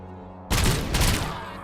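A sudden loud burst of gunfire from the video game Robocop: Rogue City, a rapid volley of shots with a brief second surge, following a quiet moment.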